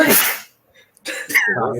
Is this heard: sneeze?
yes